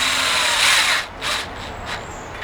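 A power drill drives a self-tapping screw into an aluminum fence post cap, giving a short, close whirring burst followed by a couple of brief pulses as the screw seats.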